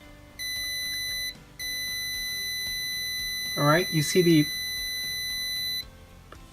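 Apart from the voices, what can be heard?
buzzer alarm triggered by ultrasonic sensor HC-SR04 on Arduino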